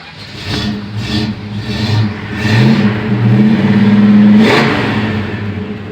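An unrestored 1971 Dodge Super Bee with matching-numbers engine cranks and fires, then revs up in several rising pulls before settling, loud and close with no talk over it.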